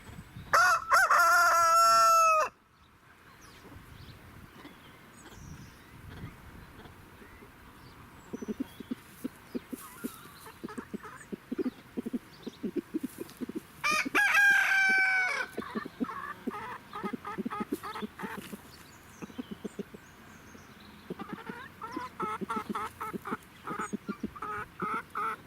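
Rooster and chickens crowing and clucking close by, with a loud crow at the start and another midway, and scattered short clucks and calls filling the spaces between.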